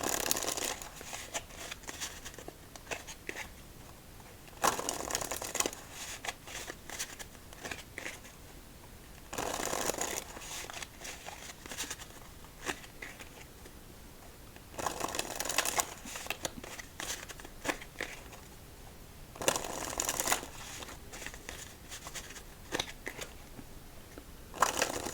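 A deck of playing cards is shuffled during a solitaire game, five crisp riffling bursts spaced a few seconds apart, close and clear with quiet handling between them.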